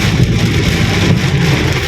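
Heavy rain pours during a thunderstorm in Bangkok, a loud, dense, continuous hiss and roar of water with low rumbling underneath, steady throughout.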